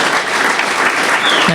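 Audience applauding a guest at a Music Monday event, a loud, continuous burst of close hand clapping filling the whole moment.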